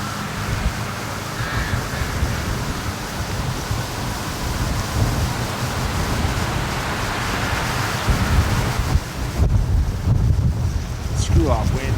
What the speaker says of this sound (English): Screw off, wind.